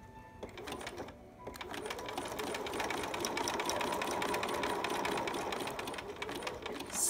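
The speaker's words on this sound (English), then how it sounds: "Put the presser foot down, switch to zigzag," A sewing machine runs steadily in zigzag mode, stitching velcro onto a small preemie shirt, a fast close mechanical whir with a brief pause near the start before running on.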